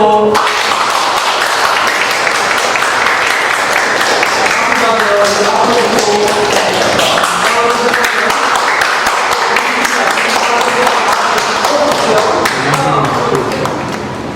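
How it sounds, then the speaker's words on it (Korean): Congratulatory applause fills a retirement ceremony, a loud sustained round of clapping from a crowd that runs evenly throughout. "오늘 축하의 박수"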